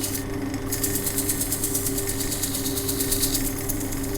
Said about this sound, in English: just wet grinding away on the object